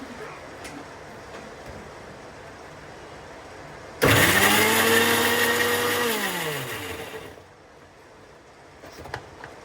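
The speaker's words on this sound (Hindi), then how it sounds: "उसके लिए टमाटर मिर्च और अदरक हमें पीसनी पड़ेगी" A kitchen mixer grinder grinds tomatoes, chilli and ginger in one loud burst of about three seconds. Its motor whine falls in pitch as it slows, then cuts out, with quiet room noise before and after.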